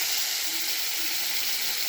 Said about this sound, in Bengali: এরপর দিচ্ছি টমেটো কুচি